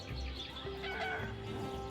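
A cartoon chicken in the Avatar World game gives a short, quiet run of clucks over a soft, tonal game background.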